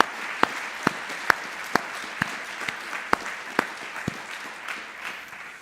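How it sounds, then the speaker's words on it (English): At a medical imaging conference, a thin round of applause offers about ten sharp, separate claps spaced unevenly over a low hum of room noise, with no speech. "So maybe another round of applause for the local organizers."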